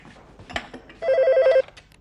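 An indoor telephone gives one loud burst of bell-like ringing that lasts about half a second, preceded by a few soft clatters.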